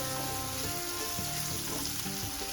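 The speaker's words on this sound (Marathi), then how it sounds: "आता हे भाजून घ्यायचं 1-2 मिनिटं।" Masala spices roasting in a hot pan for an egg rice dish, a loud continuous close sizzle and crackle of frying with faint stirring, no voices.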